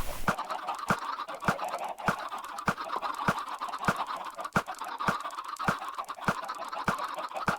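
Dense crowd of chickens clucking continuously in Minecraft, with sharp regular taps or clicks punctuating the steady clamor about every half second.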